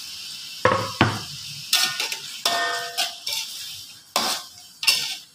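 Fresh tomato slices drop into a hot pan, setting off several sharp sizzling bursts in uneven succession, with faint utensil clatter between them.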